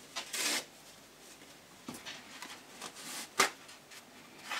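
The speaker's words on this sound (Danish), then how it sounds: "starte på papiret og rive det i stykker" Toilet paper from a whole roll torn by hand into small pieces, a pot nearby, giving several short, crisp ripping bursts with quiet pauses between them, fairly close.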